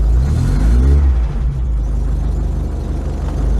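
A Volkswagen Scirocco MK2 engine idles steadily close by, its choke in need of adjustment, giving a loud, continuous low rumble with a slight rev near the start and no voices.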